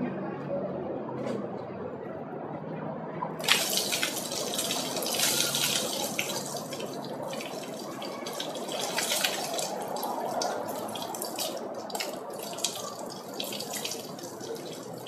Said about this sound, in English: Right now I have to get the baking soda out of my hair.